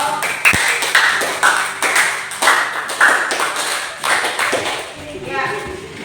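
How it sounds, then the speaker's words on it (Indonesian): Audience in an Indonesian classroom applauds a traditional giring-giring dance group, several bursts of claps and taps heard close, with voices talking throughout. "Tepuk tangan untuk kelompok."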